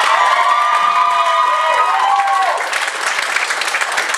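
A stand-up comedy audience bursts into applause mixed with cheers and whoops, loud and crowded, the shouting easing after a couple of seconds while clapping continues.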